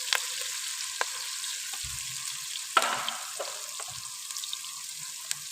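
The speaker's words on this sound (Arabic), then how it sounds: "وهنايا البصله راه تشحر كما راكم تشوفوا هنايا" Onion frying in butter in a pot for red pumpkin soup, a steady soft sizzle with occasional crackles and light scraping stirs, close but fairly quiet, with no talking.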